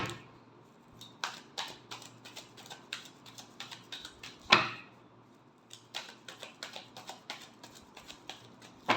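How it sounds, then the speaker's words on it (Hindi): A deck of tarot cards is shuffled in quick, crisp riffling bursts, close and clear, with a sharper snap midway and brief pauses between rounds. "Last shuffle."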